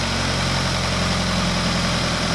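An engine idles steadily and close by, a constant low rumble with a dense mechanical hum and no voices.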